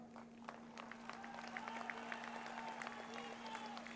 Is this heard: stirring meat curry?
no